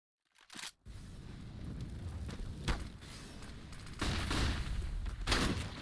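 MAG-7 shotgun fire in a CS:GO esports match, a sharp blast after a short silence, then several more shots over a dense, rumbling game soundscape, loud and close.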